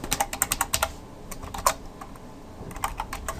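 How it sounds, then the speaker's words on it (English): Fast bursts of keystrokes on a computer keyboard, with a short pause partway through before the typing resumes, close and clear with no talking. "I don't know why I'm typing."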